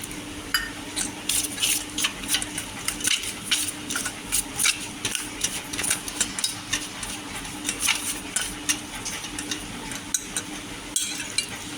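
Steady scraping and tapping of a utensil stirring a thin batter of poha and cornflour with water in a bowl, with a faint background hum and no talking.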